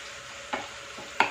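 Noodle stir-fry with soy sauce being stirred in a pan, a soft sizzle broken by two sharp clinks of the utensil against the metal.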